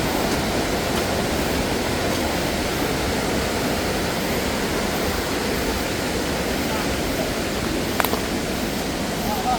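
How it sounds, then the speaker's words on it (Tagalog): Maranum Falls pours in a steady, loud roar of falling water, a dense unbroken wash of sound that fills the whole scene from start to finish with no pauses. "Ito na yung falls."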